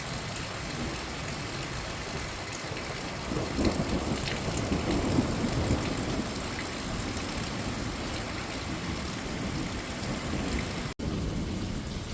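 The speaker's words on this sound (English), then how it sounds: "You can hear the thunder right there." Steady rain pours throughout while a low rumble of thunder rolls in the middle, distant and muffled.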